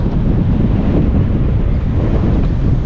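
Strong wind beside a lake on a bike trail in San Nicolas, Batangas, a loud, continuous low buffeting roar against the microphone with no other sounds standing out.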